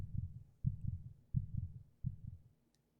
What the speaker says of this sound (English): My heart beat uneasily in my chest.